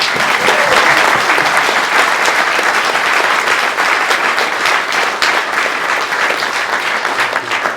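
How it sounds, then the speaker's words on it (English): A large audience gives a loud, sustained round of applause for Lucy at the ICPS award ceremony honouring David Attenborough, dense and even throughout with no break. "I just want to do a pre-round of applause for Lucy."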